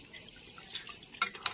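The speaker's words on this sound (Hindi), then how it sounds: "तो चलिए अब इसके रस के लिए इसमें पानी रख देते हैं" Water poured into a pan of frying red potato and egg curry, a soft liquid trickle with a few louder splashy drips near the end, fairly quiet and close.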